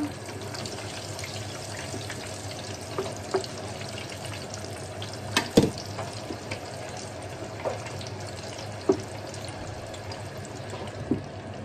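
Bagnet, crispy pork belly, deep frying in oil, a continuous bubbling sizzle broken by sharp pops and spatters, close and without voices.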